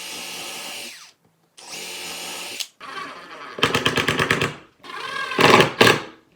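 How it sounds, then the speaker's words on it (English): A power drill pre-drilling holes in 2x6 lumber, several whirring bursts of a second or so each with brief pauses between them, close and fairly loud, the later bursts harsher as the bit bites into the wood. "So I'm going to pre-drill 2 holes in here, just to make sure that nothing splits."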